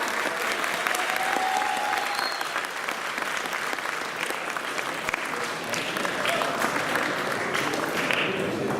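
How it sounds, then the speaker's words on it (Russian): An audience applauding at a graduation ceremony for foreign students, a thick, sustained round of clapping from a large hall crowd that holds steady for nearly nine seconds, with faint voices mixed in. "Аплодисменты, пожалуйста."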